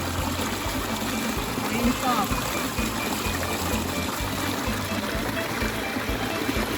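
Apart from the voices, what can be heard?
flowing stream water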